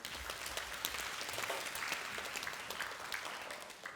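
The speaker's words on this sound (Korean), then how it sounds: "우리 오케스트라 우리 공연 수고했는데 우리 박수 한번 부탁합니다" Faint, steady applause from a church youth congregation in Gunsan after a youth orchestra performance, a soft continuous patter of many hands heard at a distance with no talk over it.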